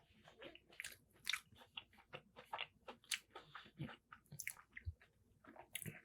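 Someone bites into a deep-fried cinnamon mini donut and keeps chewing close to the mic. The light crunches and soft squishy chews are uneven and quiet, with no talking.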